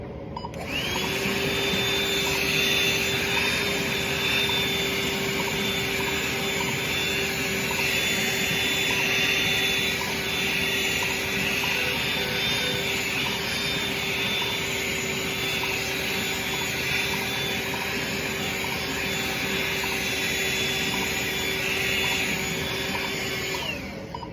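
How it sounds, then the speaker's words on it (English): A surgery-dedicated vacuum cleaner sucks up loose dog hair off a surgical site, running steadily for the whole stretch, a loud, even whine with a droning hum beneath it, with no talking. "use a surgery-dedicated vacuum to vacuum up the loose hair off the site"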